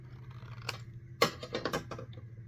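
Scissors cutting the corner of a junk journal paper piece, a few crisp close snips in quick succession against a quiet background.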